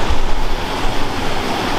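Water gushes out of a large colliery drainage pipe at about 20,000 litres a minute, a loud, steady, broadband roar close by with no talking.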